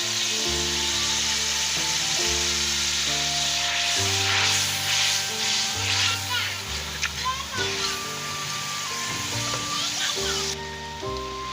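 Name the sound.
onions and tomato paste frying for mutton liver fry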